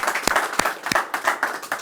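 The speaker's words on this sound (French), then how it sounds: "On peut applaudir, les gars," A small group applauding indoors at a team gathering, with brisk, uneven claps that stay moderately loud and close throughout the short burst.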